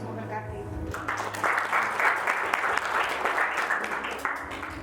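A congregation claps during a church service, steady dense applause starting abruptly and continuing for several seconds at moderate distance, with a voice briefly before it.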